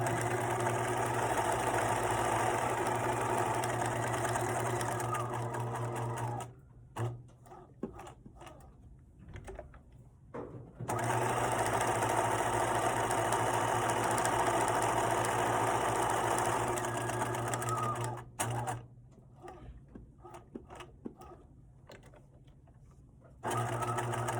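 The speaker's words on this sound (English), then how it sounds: "Notice I'm putting the needle down into the fabric to hold my position." A sewing machine stitches a zip wallet's contrast top band in two long, steady whirring runs, separated by quieter pauses with light handling clicks as the fabric is repositioned.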